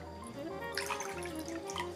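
One cup of water is poured into a bowl for a plant-based lo mein sauce, giving a brief, faint splashing trickle in a kitchen with no talk.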